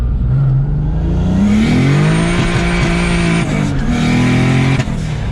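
A turbocharged BMW E30 with a 3.0L M52 engine builds boost under hard acceleration, its loud engine note rising steadily in pitch and holding strong and close for several seconds, with faint tire noise.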